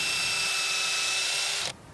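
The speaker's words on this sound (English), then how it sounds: "and drill a hole." A power drill fitted with a countersink bit bores a hole into a wooden sawhorse support rail, giving a loud, steady whine that runs close and alone for under two seconds before cutting off abruptly.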